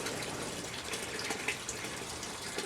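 Water steadily pouring and splashing in an aquaponic siphon setup, a continuous close gushing flow like a running tap filling a tank, with no talking.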